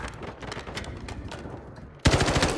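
Rapid automatic gunfire in a multiplayer shooter video game, bursts of rattling machine-gun shots that grow suddenly louder and closer near the end, with no talk over them.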